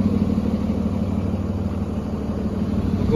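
Cummins diesel engine of a 2021 International MV extended-cab rollback tow truck idling close by, a steady low, even rumble with no change in pitch throughout.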